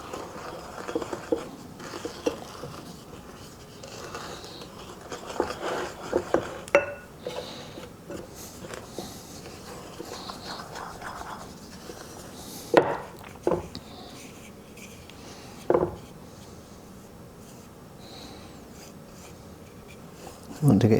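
All-purpose flour and corn flour are mixed by hand in a bowl for chocolate shortbread, giving soft scraping and rubbing close by, broken by occasional light knocks against the bowl.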